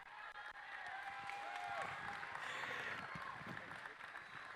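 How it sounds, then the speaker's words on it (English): Broad, steady crowd applause at a championship closing ceremony fills the whole stretch, a dense wash of clapping with some cheering mixed in, loud and continuous. "he deserves a round of applause."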